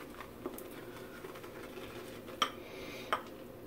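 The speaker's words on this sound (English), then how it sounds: "we're going to go ahead and do a bowl lather." A brush whips Razorock Tuscan Oud shave soap into lather in a bowl, giving soft, quiet patter and swishing with a few light clinks against the bowl.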